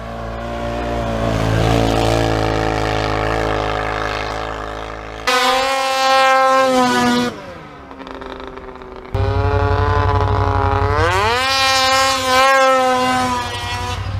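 A snowmobile engine pushes through deep, knee-high snow, droning loud and close, with its pitch swinging up and down as the throttle is worked through repeated revs.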